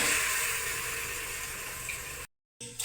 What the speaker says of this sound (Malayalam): കറിക്ക് ആവശ്യമുള്ള വെള്ളം ഒഴിക്കുക.